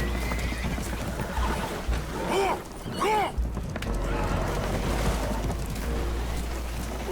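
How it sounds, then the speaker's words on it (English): Spooked horses in Red Dead Redemption 2 on a damaged boat taking on water, two loud shrill neighs in quick succession near the middle over rushing water and low rumble, with voices talking around them. "Horses are spooked, and we're taking on water."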